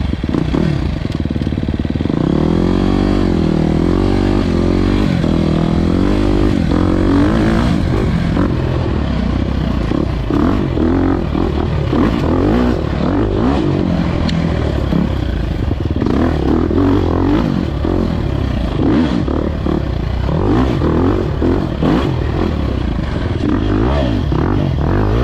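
A four-stroke dirt bike rides along a trail, its engine loud and close, rising and falling as the rider throttles and shifts, with rattling clatter and scraping from the terrain throughout.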